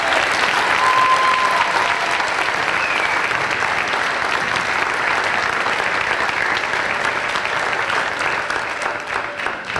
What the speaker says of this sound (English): So let's give Kristen a round of applause.